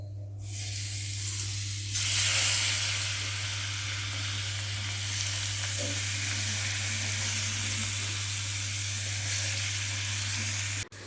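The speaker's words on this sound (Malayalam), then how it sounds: "അപ്പോൾ കുട്ടികൾക്കുള്ള ചിക്കൻ ടിഫിൻ ബോക്സ് റെഡിയാക്കാൻ വേണ്ടിയിട്ടൊന്ന് ഫ്രൈ ചെയ്ത് മാറ്റാം." Chicken sizzles steadily in hot oil, being fried for a children's tiffin box lunch in a busy home kitchen, a continuous close hiss with a low steady hum beneath and faint clinks, no voices.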